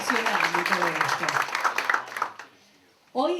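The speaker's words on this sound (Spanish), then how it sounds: "Les pido un aplauso para ellos porque la verdad que son fundamentales" An audience applauds at a talk about the health impact of workplace violence, with voices over the clapping. The applause fades out after about two and a half seconds, then a voice starts again.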